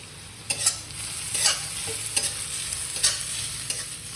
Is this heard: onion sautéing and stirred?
yes